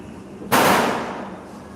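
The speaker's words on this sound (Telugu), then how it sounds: "ఈ సౌండ్స్ బాంబులు" A single firecracker goes off at night during a Karthika Pournami lamp festival, one sharp, loud bang followed by a long fading rumble against a quiet background hum.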